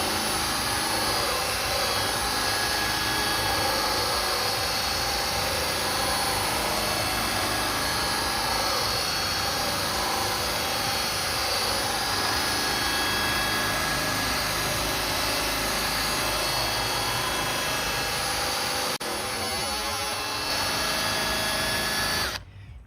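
A buffing wheel on a power drill polishes cloudy car headlights with Flitz, giving a steady, loud, high-pitched whir that runs unbroken for most of the clip and cuts off abruptly at the very end.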